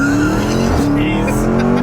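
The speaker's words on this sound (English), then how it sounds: "So apply full throttle." A Jeep Trackhawk launching at full throttle with launch control, a loud sustained engine roar climbing steadily in pitch, with a brief tire squeal and people talking over it.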